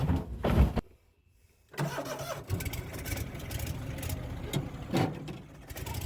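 An old farm buggy engine is cranked and fires up after a short quiet pause, then settles into a rough mid-pitched idle with a few revs, recorded close and outdoors with no talking.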